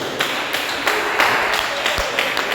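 Church congregation clapping joyfully for Jesus during a Portuguese-language service, a bright rhythmic patter of many hands in a reverberant hall, fairly loud with a few sharper claps standing out.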